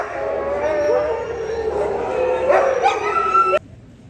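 Many dogs at a Saint Bernard-type national dog show bark, yip, whimper and howl together in a loud, continuous indoor chorus, with a voice mixed in, before the noise drops off sharply near the end.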